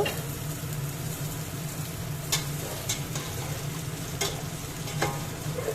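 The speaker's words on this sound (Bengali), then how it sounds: "এখন আমি আলু, পেঁপে আর কুমড়োটা একটু হালকাভাবে ভেজে নেব।" Potato, papaya and pumpkin fry lightly in a pan for vegetable khichuri, giving a steady, close sizzle broken by a few sharp stirring scrapes, with no talking.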